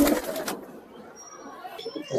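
A desi pigeon, an old Giribaz bird about sixteen years of age, coos close by in a short burst, followed by quieter rustling and faint background sounds.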